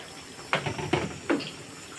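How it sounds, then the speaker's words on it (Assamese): Hot water poured into a pan of dahi chicken curry, heard as three short, close splashing pours separated by brief pauses. "অকণমান গৰম পানী দি দিছোঁ"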